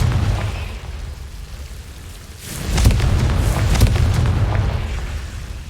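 Confringo fire spell explosions in the video game Hogwarts Legacy, a low rumbling boom that swells midway into a sustained crackling roar with sharp bursts, loud and close, no talk.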